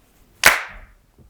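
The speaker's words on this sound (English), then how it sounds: "Let's clap again." A single sharp hand clap cracks out loud and close, rings briefly, then fades into quiet.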